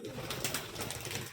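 Rajshahi Giribaj flying pigeons, a matched pair of biscuit-coloured birds, coo softly at close range in a short, continuous burst with no talking.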